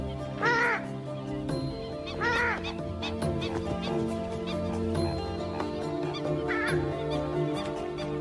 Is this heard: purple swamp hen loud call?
yes